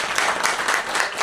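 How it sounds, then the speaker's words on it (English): Classroom audience in Armenia clapping after student presentations, a brief dense burst of applause from a small group, close and steady. "We want to clap."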